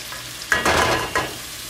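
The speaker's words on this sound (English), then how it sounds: "so I'm going to add my coconut milk" Coconut milk poured into a hot pan bursts into a loud sizzle, flaring twice in quick succession with stirring, then settling to a softer frying hiss close by.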